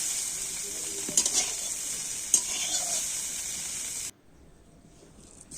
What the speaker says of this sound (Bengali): দেখো ফুলকপিটা হালকা ভাজা ভাজা হয়ে গেছে।